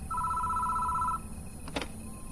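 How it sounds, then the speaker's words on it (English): Telephone ringing inside a shrine security station in the video game Spirit Hunter: NG, a steady two-tone electronic ring lasting about a second over a low ambient hum, followed by a short click as it stops. "We can hear a phone ring inside the station before it stops."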